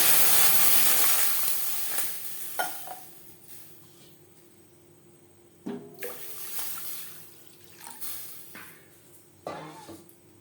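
Water pours into a kadai while cooking an egg omelette curry with mashed potato, with a strong gush at first that settles into quieter splashes and a few sharper sloshing bursts.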